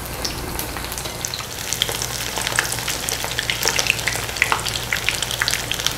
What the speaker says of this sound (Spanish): vamos a comenzar acá a echar nuestro tofu en el aceite